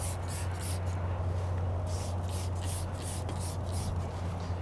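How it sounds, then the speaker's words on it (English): Wheel cleaner is sprayed onto a factory-coated car wheel and tire in a garage, a series of short hissing bursts from a trigger sprayer over a low steady hum. "So what you want to do is come in here and spray this down really well."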